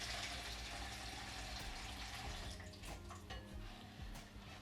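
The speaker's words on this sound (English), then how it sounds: "So I'm just going to pour that water in." Water poured into a bowl of 450 grams of flour while mixing sourdough dough in a kitchen, a steady close pouring and splashing stream running continuously without talk.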